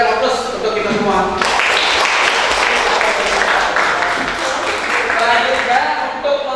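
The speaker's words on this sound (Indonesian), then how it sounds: "Kita berikan aplaus untuk kita semua." Classroom applause from a group of students in a lesson, steady dense clapping that carries on for several seconds, with some voices calling out over it.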